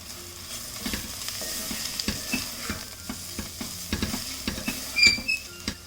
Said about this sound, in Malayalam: പാകത്തിനുള്ള ഉപ്പും ഇട്ട് ഇളക്കി കൊടുക്കാം